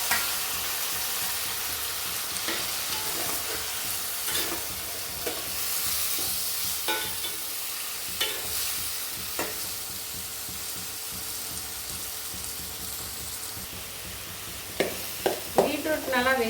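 Tomatoes frying with sautéed onions in a pan, a steady sizzle running throughout, with repeated scraping stirs and a few louder clatters near the end.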